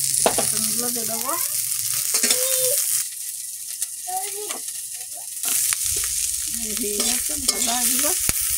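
Eggplant sizzles and fries in a wok of oil with garlic, onion and chili, a spatula stirring and scraping in bursts against the pan, close and loud, with brief quieter pauses.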